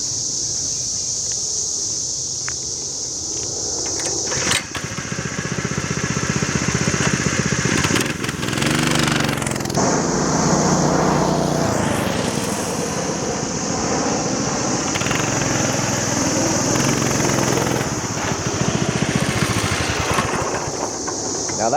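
A hotrod minibike engine with a hydraulic brake system drones steadily while ridden at about 25 mph, loud and close with wind rush, rising and falling slightly as the bike slows near the end.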